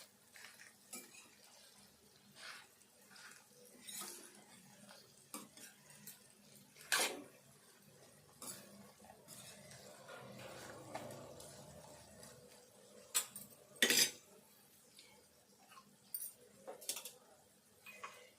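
Fried bitter gourd pieces being stirred in a pan over low heat, quiet intermittent spatula scrapes and sharp metallic clinks at irregular intervals against a faint background hiss.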